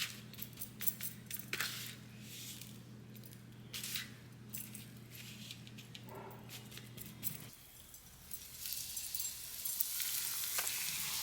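Steak sizzling and frying in a pan with a steady crackling hiss, joined by scattered clinks and small knocks of utensils partway through, no talking.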